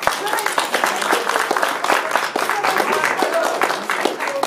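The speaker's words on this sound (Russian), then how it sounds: "Еще раз аплодисменты." Audience at a literary evening at the Central House of Writers in Moscow claps steadily, a moderately loud, even patter of many hands with some scattered voices mixed in.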